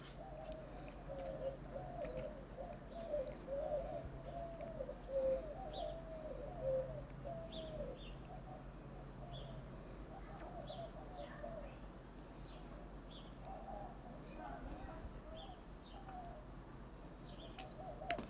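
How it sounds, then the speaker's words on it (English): Doves cooing outdoors, soft repeated low coos in uneven runs, fairly faint and distant over quiet background ambience, with no one speaking. "The dove are cooing again."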